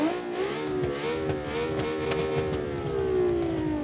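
A high-revving V6 engine in the car-building game Automation, screaming near 9,000 RPM with a sustained, slightly wavering whine and rich harmonics, loud and continuous with no talk over it.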